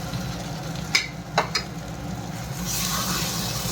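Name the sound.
fried potato stirred and sizzling in spice masala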